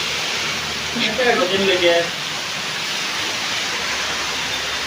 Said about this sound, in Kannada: ಮಳೆ ನೋಡಿ ನಮ್ಮ ಊರಲ್ಲಿ